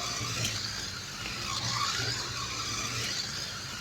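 Scalextric slot car picking up speed around its track, a faint, thin electric whine and rattle rising and falling steadily as it laps past a dead spot.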